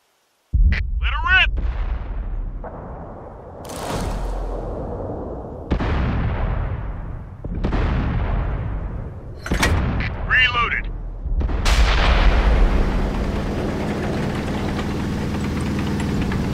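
Tier 5 Bishop artillery in World of Tanks fires several deep, booming shots, each followed by a rumbling decay, with bursts of speech between the blasts.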